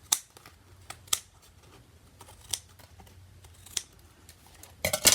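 Scissors snip paper tree shapes for a mountain night sky card, a run of sharp, close cuts spaced irregularly, ending in a quick cluster of snips over a quiet room.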